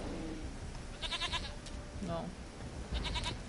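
Goat bleats from The Witcher III, short wavering cries around the middle of the stretch, with faint game ambience underneath and a brief spoken word.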